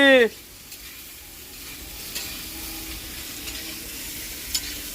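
Potatoes fry in a pan with a steady, hissing sizzle and light stirring, close and moderately quiet, after a short burst of a voice at the very start.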